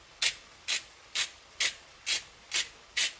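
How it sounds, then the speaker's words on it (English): A hand salt grinder cranks salt over raw ground beef, producing seven evenly spaced, crisp gritty rasps about half a second apart, close up and alone. "Take your salt, grind it on there."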